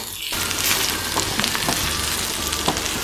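Okra frying in oil, a dense, crackling sizzle that starts abruptly and holds steady, close and loud, with a few sharp pops and stirring clicks.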